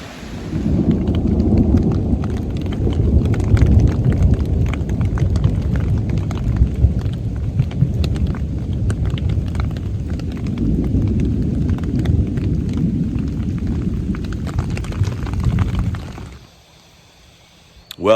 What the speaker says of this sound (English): there's a little bit of thunder and lightning